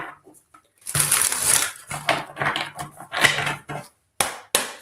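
Tarot cards riffled and shuffled by hand during a live psychic reading, a run of close, crisp papery bursts, some longer and some short, with brief pauses between them.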